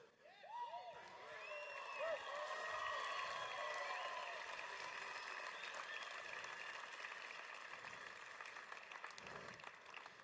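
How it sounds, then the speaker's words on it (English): An audience at a motivational speech on becoming a first-generation millionaire claps in a dense, sustained wash of applause with some cheering, rising quickly and holding steady for about ten seconds. "You're clapping now."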